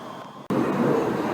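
Train pulling into a railway station platform at Stirling: after a brief quiet moment, a loud sustained rumble and mechanical roar of the approaching train sets in abruptly and continues steadily, close by.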